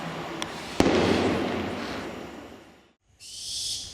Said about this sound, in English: Can you hear that? That's the baby owls.